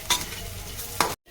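A puffed rice mixture with tomato, green chilli and masala is stirred in a bowl, with two sharp scraping strokes over a steady crackly rustle before a sudden cutoff.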